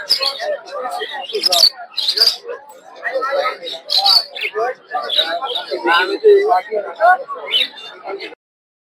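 A busy chorus of diamond doves and finches cooing and chirping up close at a bird market, calls overlapping in a continuous stream.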